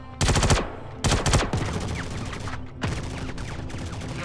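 Bursts of rapid automatic gunfire in the Star Citizen space game, loud and close in two sharp volleys followed by scattered shots and impacts, with a brief voice under the action.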